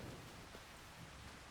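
Rain falling in the farming video game Farming Simulator 25, a dense, even hiss of rainfall that stays constant throughout with no other sounds.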